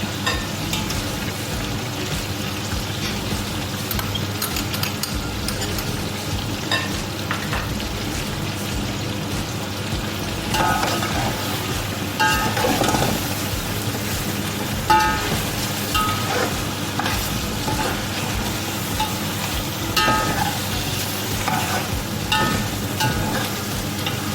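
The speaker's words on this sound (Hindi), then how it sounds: "हमें इस गोश्त को उस वक्त तक भूनना है जब तक ये जिंजर गार्लिक पेस्ट की स्मेल खत्म नहीं जाती" Beef pieces fry with ginger garlic paste in a pot for yakhni pulao, a continuous crackling sizzle with frequent scraping stirs that grows a bit louder midway, no voices over it.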